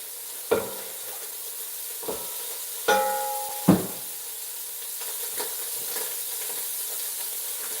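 Onions and garlic frying in olive oil for cabbage soup, a steady broadband sizzle running throughout, broken by a few sharp clanks and scrapes of a utensil stirring the pan, close and moderately loud.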